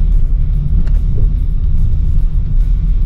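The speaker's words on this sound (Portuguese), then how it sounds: "Não sei se vocês estão conseguindo ouvir o ruído interno, ela é bem silenciosa." Steady low engine rumble inside a Renault Kangoo Flex 1.6 driving uphill in fourth gear, a continuous quiet cabin drone with no voices.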